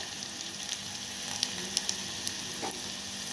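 Mustard seeds, cumin, garlic and asafoetida sizzle in hot oil, a dense continuous hiss broken by sharp little pops and crackles as the seeds burst.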